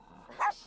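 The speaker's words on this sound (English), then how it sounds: "Barks a lot." A single short dog bark from a dog in The Sims 4 game, snappy and close, with faint game ambience around it.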